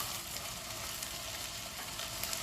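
Chopped onions hitting a hot pan for butter chicken, producing a steady, even sizzle and hiss that runs throughout at fairly low volume.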